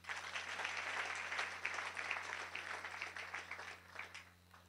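Audience applause at a church gathering, a steady wash of clapping from many hands that lasts throughout, moderately distant and faint, with a low constant hum beneath.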